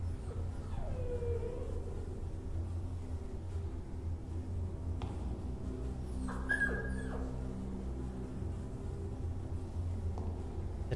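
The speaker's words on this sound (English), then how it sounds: "That looks like my old dog, Samus." A dog in a video game howls and whimpers, a wavering cry rising early on and a brighter whine near the middle, faint over a steady hum of game music and ambience.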